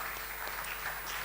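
Brief, soft applause from an audience at a financial reporting and valuation standards panel, a faint continuous patter of clapping heard at a distance.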